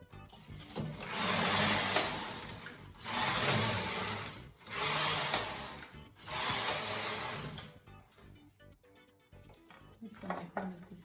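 A Brother KH930 knitting machine knits rows, its carriage sweeping across in four loud, hissing, rattling passes at a steady rhythm, followed by quieter scattered clicks.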